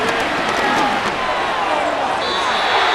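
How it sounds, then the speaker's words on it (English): Stadium crowd noise in a Madden NFL 25 football game, a steady, dense roar of spectators that stays loud throughout, with a faint tone entering near the end. "Crowd noise rises."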